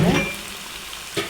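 Liver roast fries in a pan with a close, busy sizzle, and two quick scrapes of stirring at the start and near the end of the short stretch.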